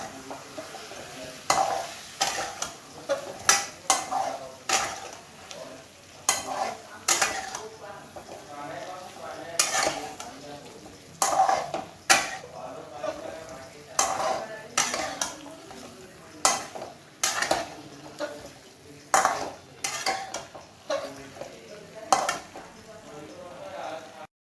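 Ginger paste and a splash of water being stirred and sautéed in a pan for a vegetarian potato curry, with repeated sharp spatula scrapes and knocks over a soft sizzle. Someone talks at times.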